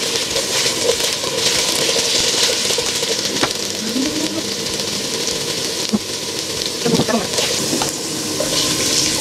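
Potatoes sizzle steadily in a frying pan while being half-fried for beef mechado, a dense continuous crackle with occasional stirring scrapes and brief faint voices underneath.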